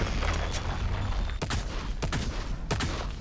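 An agent's ability explodes in the video game Valorant: a dense roar of gunfire and blasts with several sharp, loud cracks over about three seconds, and no voices.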